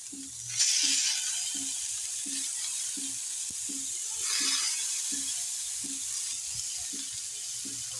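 Chicken tikka sizzling on a lightly greased hot tawa, a steady close hiss that swells twice, with a regular soft low thumping underneath and no talk.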